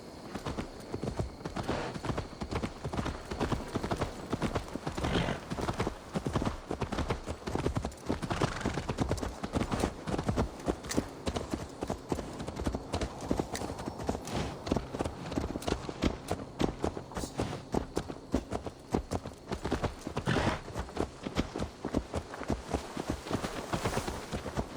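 Horse hooves clip-clopping steadily and close in Assassin's Creed Valhalla, a continuous rhythmic trot running throughout with occasional faint snorts in the background.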